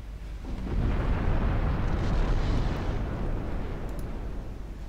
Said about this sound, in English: Two dud torpedo hits.